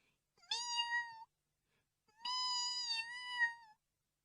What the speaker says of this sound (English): At once there came a pathetic mewing.